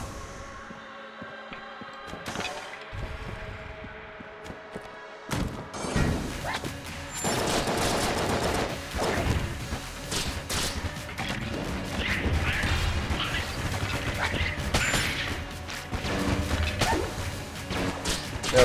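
Beam weapon firing in Enter the Gungeon, amid loud, busy game action: sustained buzzing energy layered with crashes, whooshes and mechanical clanks that build and stay dense after an early lull.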